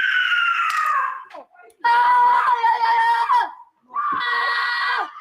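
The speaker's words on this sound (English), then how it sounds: "the kid decides to go outside and scream and shout until he loses his voice." A child outdoors screams and shouts in long, loud, strained bursts separated by short pauses, close and piercing throughout.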